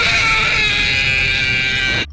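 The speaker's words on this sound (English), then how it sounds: "Just listen to him trying to do the Fred scream now compared to the first movie." Fred, the cartoonish character from the Fred movies, letting out a sustained, shrill, high-pitched scream that holds loud and steady for about two seconds before cutting off abruptly.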